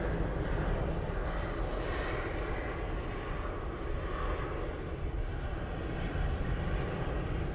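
An airplane departs Manchester Airport bound for Faro, its engines producing a steady, broad roar that holds loud and even throughout, with no voices.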